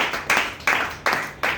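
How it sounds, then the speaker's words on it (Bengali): An audience at a health talk claps on request, producing four loud, evenly spaced bursts of hand claps that sound close and sharp. "জোরে একটা হাততালি চাই।"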